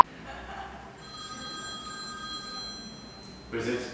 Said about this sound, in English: Just turn off the phone.